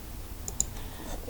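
A couple of sharp, faint computer mouse clicks, close and isolated against a quiet background with no talk, spaced about a tenth of a second apart.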